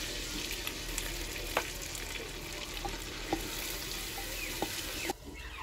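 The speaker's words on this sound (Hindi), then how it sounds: "लहसुन और अदरक भुन चुका है" Garlic and ginger fry in a clay handi over a village fire, giving a steady close sizzle with a few soft stirring clicks and no talking.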